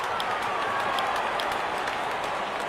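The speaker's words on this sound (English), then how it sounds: "The crowd loves it." Cricket stadium crowd applauding a wicket in an India versus Pakistan match, a steady wash of distant clapping and cheering that holds evenly throughout with no break.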